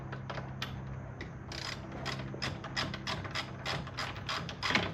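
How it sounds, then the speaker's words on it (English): A ratchet wrench clicks in quick repeated bursts while tightening a part on a Jeep during electrical work, close and steady against a low background hum. "Take our ratchet here."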